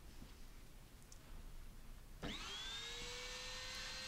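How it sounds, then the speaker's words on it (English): A router fitted with a cove bit cuts a groove into MDF, starting abruptly after a quiet stretch and then holding a loud, steady high-pitched whine with a sustained tone until the end, with no talking. "So I'm just running the router now along that the double piece at the back as shown"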